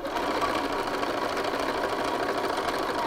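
Close, steady whir of a sewing machine stitching down to a shirt collar corner, running continuously at an even rapid pace with no talking.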